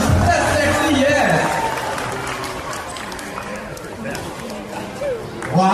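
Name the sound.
audience applause at a sea lion show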